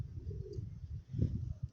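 Low, soft pigeon cooing repeats in a steady murmur close by, with a slightly louder coo near the end.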